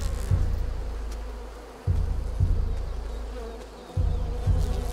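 Bees in the game A Plague Tale: Requiem make a loud, continuous low buzzing drone that swells in repeated surges, with no speech over it.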